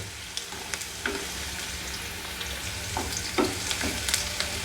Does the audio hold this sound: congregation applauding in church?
no